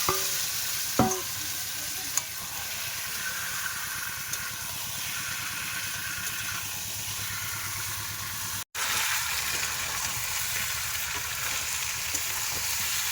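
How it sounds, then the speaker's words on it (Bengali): Spice paste sizzles steadily in hot oil while being stirred for a meat and potato curry, a close, continuous frying hiss with occasional spatula scrapes and clicks, briefly cutting out once midway before resuming, with no voices. "মশলাটা ভালো করে কষাই করে নিচ্ছি আলু আর মাংসের সাথে একসাথে দেবো"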